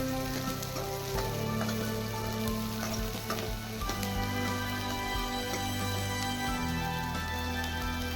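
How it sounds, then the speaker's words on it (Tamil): Onions frying in hot oil in a kadai give a steady, close crackling sizzle that runs continuously through the clip, with occasional light stirring and no voices. "ஒரு கடாயில் எண்ணெய் ஊற்றி எண்ணெய் கொஞ்சம் நல்லா காஞ்சதும் எடுத்து வச்ச வெங்காயத்தையும் போட்டுக்கலாம்."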